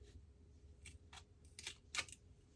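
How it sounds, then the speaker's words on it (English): Quiet, crisp snips of scissors cutting off a rounded edge, several short clicks spaced irregularly, close up with no talking. "So all I'm going to do is just go in and just cut off with some scissors"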